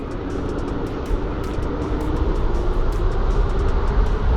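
An electric vehicle with a twist-grip electronic throttle accelerates at high power, a loud, steady whining motor hum that builds gradually alongside rushing noise and repeated faint ticking.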